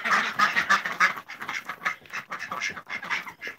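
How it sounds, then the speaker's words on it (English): A flock of domestic ducks, Muscovy, Indian Runner and Khaki Campbell, quacks close by on a farm, a busy run of overlapping raspy calls that carries on throughout without pause. "There's all the ducks."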